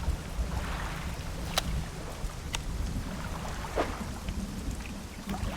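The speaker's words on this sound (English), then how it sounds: "Looks like we have a bit of a storm" A fairly quiet thunderstorm in the fishing game Dredge: steady rain and wind over low rumbles, with a few sharp cracks of thunder at intervals, near a boat on the water.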